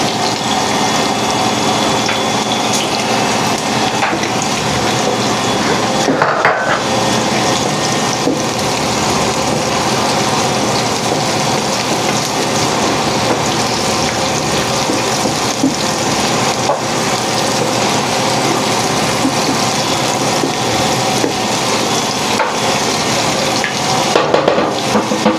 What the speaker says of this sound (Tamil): வெங்காயம் பொன்னிறத்தில் வரும் வரைக்கும் பொரிய விட போகணும்